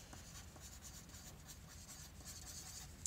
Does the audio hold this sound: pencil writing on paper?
yes